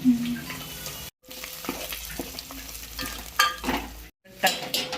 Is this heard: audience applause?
no